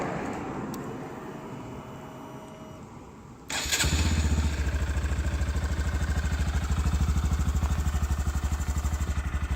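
A Honda Grom motorcycle fires up after a short quiet lull and settles into a soft, even, rapid putter at close range, its idle staying low and unobtrusive.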